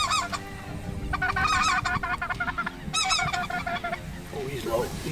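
Speckle-bellied geese honk in repeated bursts during an Arkansas goose hunt in Stuttgart, a dense chorus of overlapping nasal calls that swells, pauses briefly and returns, loud and fairly close over a low rumbling background.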